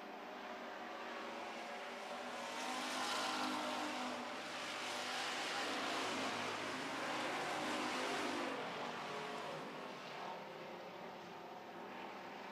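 Street stock race cars roar around an oval track in a steady, distant engine drone that swells and fades as the pack passes, faint and continuous with no talk.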